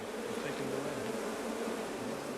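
Honeybees from across an apiary swarm and buzz in a dense, continuous drone that stays loud and close throughout, with no voices.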